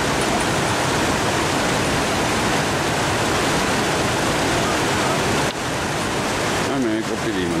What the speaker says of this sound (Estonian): Veevool on nii tugev